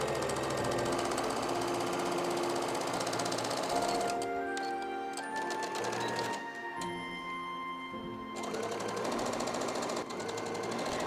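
A sewing machine stitches two fabric panels of elasticated kids' trousers together along the sides and inseam, a close, steady, fast mechanical whir that briefly pauses and shifts speed partway through before running on.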